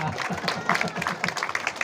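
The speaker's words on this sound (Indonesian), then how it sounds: "tepuk tangan untuk kita semua." An audience at a village tourism presentation in West Lombok applauds in a short burst of mixed clapping under overlapping talk and a rhythmic low thumping.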